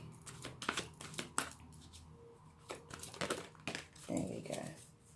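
Crisp papery shuffling and card flicks of tarot cards in quick bursts, close by, with brief pauses between handfuls and some soft rustling.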